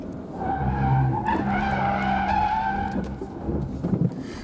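A 2019 Subaru Forester weaves through a cone slalom, its tires squealing in a long, loud, wavering screech over the engine's drone, easing off toward the end.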